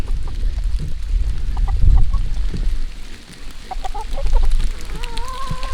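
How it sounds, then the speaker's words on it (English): Several chickens cluck and murmur close by, with soft overlapping calls and a few rising squawks, plus some rustling and movement. "all the chickens are coming over here"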